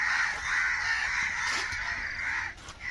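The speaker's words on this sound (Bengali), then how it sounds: "দেশি মুরগি রে" White native hens on an island outing in Hooghly give off a continuous harsh, raspy squawking and clucking, close and fairly loud, with a few brief louder bursts near the end.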